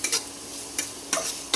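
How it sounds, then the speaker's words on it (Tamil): Garlic frying in oil for tempering in a pan for kothu parotta, a steady low sizzle broken by a few short scraping stirs, close and alone. "உள்ளி கரைச்சி விட்டு நல்ல தாளிக்கணும்"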